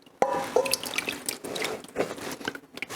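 Hot liquid poured from a heavy cast iron pan over cheeses for smoked mac and triple cheese, a close, continuous wet splashing and dripping pour that runs throughout with small spattering bursts.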